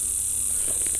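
Honeybees buzz around a hive being split, making a dense, steady droning hum that is loud and continuous, with no talking.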